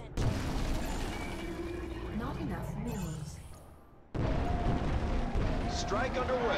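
Booming explosions from an artillery bombardment in the video game StarCraft II fill the clip, a dense continuous rumble that briefly dips near the four-second mark before surging back loud.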